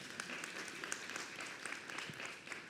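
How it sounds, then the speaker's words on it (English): Short burst of applause in a podcast setting, a small group clapping steadily and fairly quietly for under three seconds. "Yeah, you can applaud."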